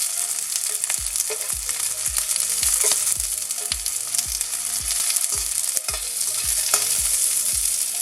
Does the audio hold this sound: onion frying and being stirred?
yes